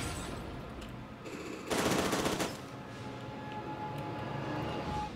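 Automatic gunfire in the shooter Fear 2, an enemy shooting at the player: steady background rattle with a louder, sharper burst of close shots near the middle, no talking.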